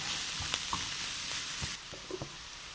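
Finely chopped large onion goes into a hot pan for a pearl spot fish roast and sizzles steadily, with a few light clinks and stirring taps over about three seconds.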